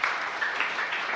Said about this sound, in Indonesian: Beri tepuk tangan yang meriah bagi Tuhan Yesus